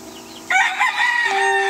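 Chickens in a poultry coop make loud, close clucking and crowing calls over a steady background hum.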